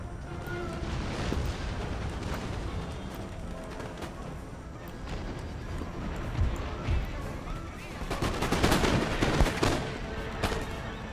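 Musket volley fire in Empire Total War, a battle in Michigan against line infantry and cavalry, rolls on as dense, continuous crackling gunfire with a louder burst of shots near the end, mixed with battlefield din.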